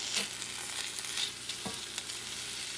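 Onions, green peppers and bacon frying in a pan with a little oil, a continuous bright sizzle broken by scraping stirs and occasional clatter, steady and close with no talking.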